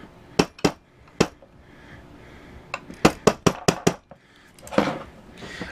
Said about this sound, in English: It's just a rubber mallet.